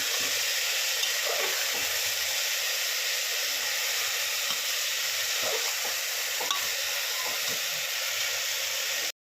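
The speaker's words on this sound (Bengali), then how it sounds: "ডালটা ভালো করে ভেজে নিয়েছি" Lentils frying in a pan with salt and turmeric, giving a steady close sizzle and hiss with occasional stirring scrapes, no talking.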